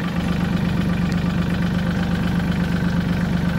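A tractor engine, fitted with a mower deck, idles on a farm in a steady, unbroken low rumble with a constant mechanical drone, close and fairly loud, with no talking.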